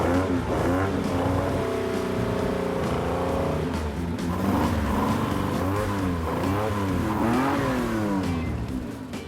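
A Maserati 90-degree V6 with an oddball firing order, long unused and smoking, revs loudly and close by, its pitch rising and falling through repeated throttle blips.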